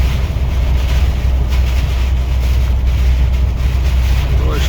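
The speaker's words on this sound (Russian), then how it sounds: "Дождь лупасит" Heavy rain and gusting crosswind from a cyclone batter a car on the road between Tomsk and Omsk in a constant loud roar, with no pauses and a dense low rumble underneath.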